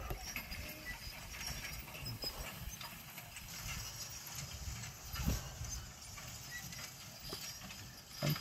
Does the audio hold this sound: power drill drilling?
no